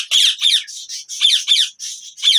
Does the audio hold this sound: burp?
no